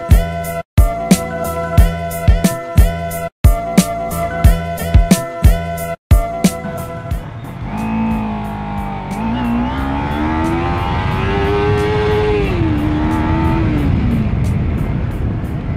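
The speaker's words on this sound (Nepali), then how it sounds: "It's a Kawasaki Ninja 300 star dust." A Kawasaki Ninja 300 Stardust fitted with a K&N air filter revs up near and loud. Its engine note rises and falls in smooth, sustained sweeps after a stretch of rhythmic, beat-driven music.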